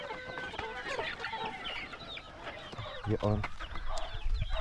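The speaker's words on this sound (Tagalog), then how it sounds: "nandito tayo sa ating mga alaga na mga sisiw" Chicks on a small farm cheep in a busy chorus of high, overlapping peeps with some clucking, heard close up while a voice speaks briefly over them.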